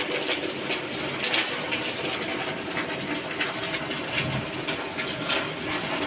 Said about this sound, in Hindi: गाइस देखिए कल से ही बारिश हो रहा है